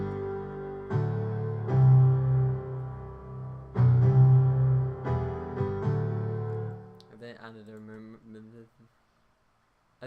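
Sustained piano chords layered from three different microphones, ringing full and close for several seconds before a brief quieter tail near the end.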